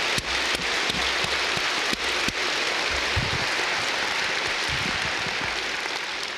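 Sustained, steady applause from a large audience at a Korean world mission conference, dense and even throughout with a few sharper claps standing out.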